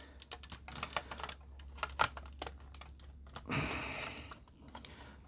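Ratchet joints in the thighs of a Studio 01 Cell action figure being worked, producing a run of sharp, close, irregular clicks. A short rustling burst of handling noise comes near the end, and there is no talking.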